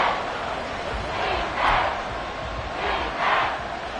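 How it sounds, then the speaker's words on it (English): Stadium crowd in the Madden 24 American football video game roars steadily on a third-and-inches play, swelling in loud waves as fans try to force a false start, with no voices close by. "this crowd trying to force a false start here"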